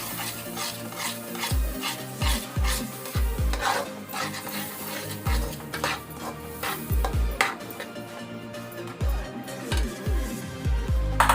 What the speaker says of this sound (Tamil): இதில் நான் இந்த எள்ளை கொஞ்சம் கொஞ்சமாக போட்டு அப்படி கலரிக்கிறேங்க